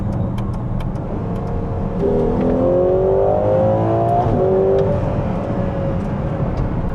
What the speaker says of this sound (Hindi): जैसे ही आप डाउन शिफ्ट करते हो ना वो सॉन्ग ऑफ दैट V12 आपको सुनने को मिलता है